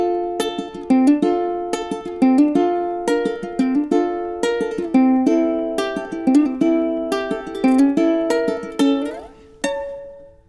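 Ukulele chords played a measure at a time, adding hammer-ons, a trill and a slide up the neck; bright strums ring out close and clean, ending with a rising slide.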